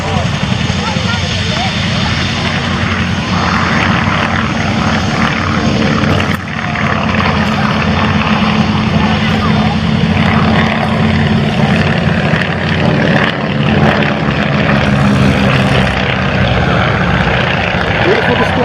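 An Avro Anson Mk.I twin propeller aircraft flies a display at the RAF Cosford air show, its engines droning loud and continuous throughout as a commentator speaks over the public address.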